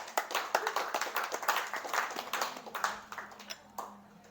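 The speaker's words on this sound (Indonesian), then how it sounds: "tepuk tangan buat kita semua" A crowd at a cafe meetup claps together, a dense burst of many hands that carries on for a few seconds and then starts to taper off.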